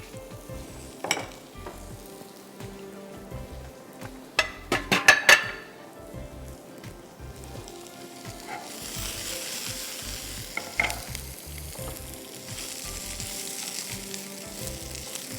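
Onions sautéing in oil in a pan while beef burgers are prepared, giving a steady sizzle with stirring and brief clinks of utensils against the pan, louder bursts around the middle.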